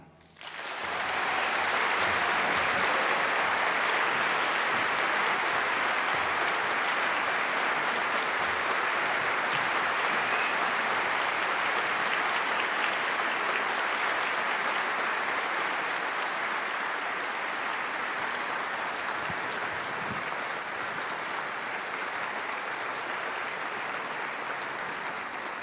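An audience applauds to welcome speakers onto a concert hall stage, a dense, loud, sustained wash of clapping that starts abruptly and continues evenly for over twenty seconds with no talking.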